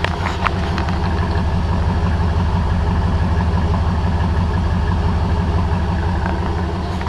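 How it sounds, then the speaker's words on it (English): A 1999 Dodge Ram 1500 Sport pickup engine idles steadily up close on its stock exhaust, a smooth, even low drone with a regular pulsing rhythm and no revving. "this is the truck running with the stock exhaust"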